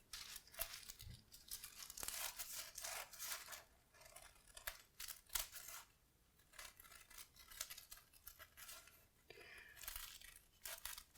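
Scissors snip through eight stacked layers of tissue paper to cut out a circle for a paper flower, giving quiet crisp crinkling and rustling cuts in uneven bursts, close but faint.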